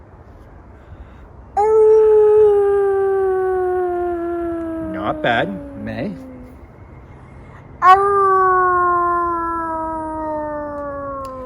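A person imitates a wolf howl, holding two long sliding howls that fall slowly in pitch, with brief speech between them.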